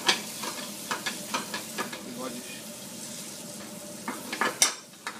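Mushrooms cooking in butter in a pan for a balsamic glazed mushroom dish, with a continuous sizzle broken by repeated scraping and stirring clicks of a utensil, heard up close.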